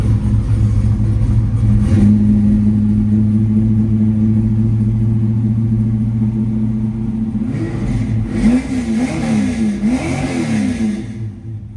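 A 1979 Chevrolet Camaro Z28 V8 idles with a steady throbbing rumble, then revs up several times in quick rising and falling bursts, loud and close with no talk.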